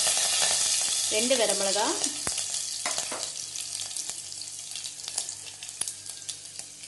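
Fennel, curry leaves and red chillies spluttering in hot oil for a spicy potato fry, a dense crackling sizzle throughout with brief spoken words near the start and scattered stirring clinks.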